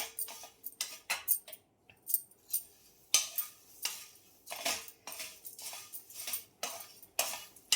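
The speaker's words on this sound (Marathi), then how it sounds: "आणि कढाई ठेवलेली आपल्याला आता हे पोहे भाजून घ्यायचे" Flattened rice (poha) dry-roasting in a kadhai makes irregular dry rustling scrapes and light clinks, heard in quiet bursts with pauses in between, and no voices.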